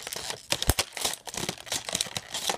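Tough, stiff plastic packaging being handled and wrestled open, with close crinkling and crackling, sharp snaps and a loud pop amid steady rustling.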